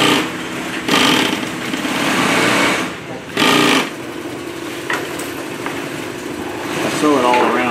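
An electric sewing machine stitching around the perimeter of a California-compliant grocery bag, running in a steady whirring hum with short pauses and bursts of faster stitching, close and fairly loud.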